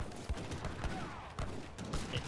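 Volleys of musket fire crackle through a battle in the video game Age of Empires 3, dense overlapping shots forming a steady rattling din for a couple of seconds.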